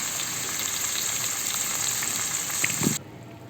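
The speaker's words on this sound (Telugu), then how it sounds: "టమాటాలు అయితే ఉడుకుతున్నాయి" Chopped tomatoes and green chilies cook in a pan for a tomato chili curry, making a steady, moderate hiss of simmering and frying that cuts off abruptly near the end, with no speech.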